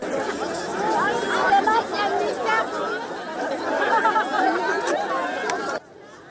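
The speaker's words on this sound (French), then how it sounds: "Bain de foule pour être plus près de son peuple." A dense crowd chatters around Madagascar's president as he walks among the people. The steady babble of many voices stays close and lively, then cuts off abruptly near the end.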